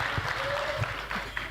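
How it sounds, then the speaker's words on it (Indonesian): An audience claps for Tri Rismaharini at a talk on humanity and urban civilization, a brief, fairly soft patter of applause with some scattered crowd sound mixed in. "Kita beri tepuk tangan untuk Ibu Tri Risma hari ini."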